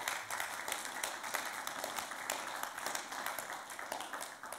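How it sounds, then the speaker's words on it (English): A church congregation claps and applauds for fathers during a Sunday morning service, a soft, steady patter of many hands heard at a distance. "you can give them another clap and an applause this morning"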